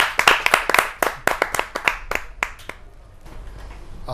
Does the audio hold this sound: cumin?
no